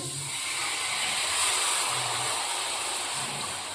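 Water poured onto roasted pearl millet flour in a hot pan, a loud, close, steady hissing sizzle lasting several seconds with a bright steam-like rush throughout and no talking.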